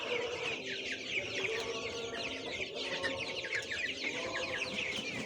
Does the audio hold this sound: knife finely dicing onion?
no